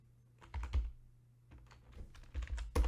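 Computer keyboard keys tapped in short bursts, close and fairly quiet, with clusters of clicks separated by brief pauses over a low steady hum.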